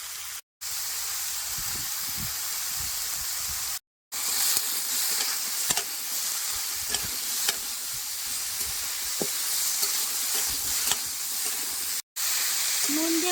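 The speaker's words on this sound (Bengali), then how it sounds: "হলুদ দিয়েও কিন্তু ভালো করে ভাজা ভাজা করে নিচ্ছি" Bottle gourd curry with turmeric fries in a pan, a continuous loud sizzle with stirring scrapes and brief breaks, while a voice talks faintly beneath.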